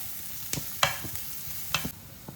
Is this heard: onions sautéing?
yes